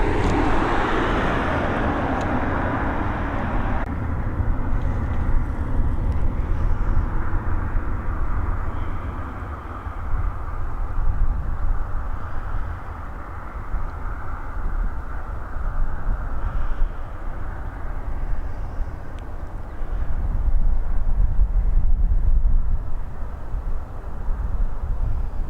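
Airliners depart from Dublin Airport's north runway, heard from about 150 to 200 metres from the rotation point as a sustained roaring jet rumble that swells and fades, with steady broadband noise throughout.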